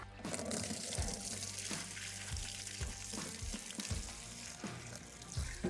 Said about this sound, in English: The tank is still full of fuel, so I'm going to empty it out into this tub first